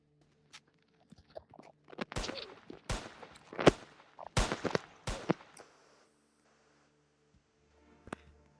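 Video game gunfire: a rapid cluster of sharp, loud gunshots spaced a fraction of a second apart, followed by one fainter isolated shot after a pause.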